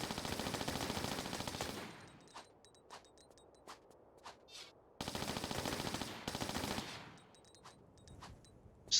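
Rapid automatic gunfire from Tomb Raider The Last Revelation comes in two long sustained bursts, with single sharp shots scattered between them, loud and up close.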